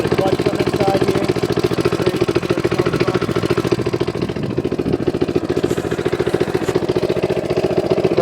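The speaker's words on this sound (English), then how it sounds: "The idle's smooth, it doesn't really miss at all." A Manco minibike's small engine idles smoothly and evenly, its rapid regular putter loud and close throughout with no misses, while someone talks over it.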